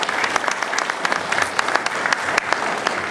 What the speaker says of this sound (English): how about one last round of applause for our two